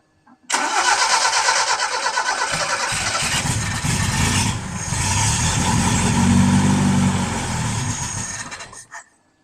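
A 1971 Toyota Celica TA22 engine cranks and catches, then runs loud and steady at idle with slight rises in revs for several seconds before cutting off abruptly.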